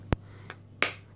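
Eggs dropped one at a time into an oat bread mixture, two sharp, close, wet taps with a faint one between, alone in a quiet kitchen.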